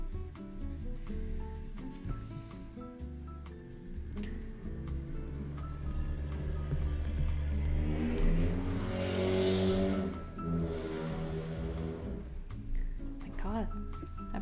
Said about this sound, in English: Person needs to get their car fixed.